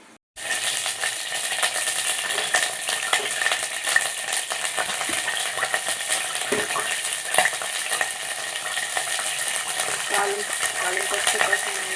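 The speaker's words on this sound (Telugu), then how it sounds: "తాలింపు పెట్టేసానండి" Tempering spices hit hot oil for dal and burst into a loud, continuous crackling sizzle right after a brief quiet start, close by, with occasional metallic clinks of a spoon or pan throughout.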